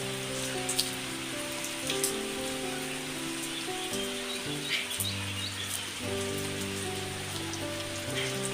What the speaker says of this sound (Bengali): সেই রাত্রি থেকেই বৃষ্টি হচ্ছে।